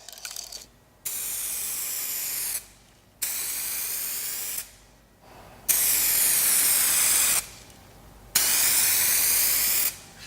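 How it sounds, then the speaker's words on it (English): A spray gun applying 2K clear coat hisses in four long, steady bursts of a second or two each, separated by short pauses, close and loud with no talking. "you're spraying 2K clear coat"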